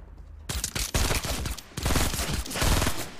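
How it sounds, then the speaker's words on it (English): Rapid, dense bursts of automatic gunfire in the video game Fortnite crackle in close succession, loud and continuous with brief pauses between volleys. "I hear gunfire, but it's between two different people,"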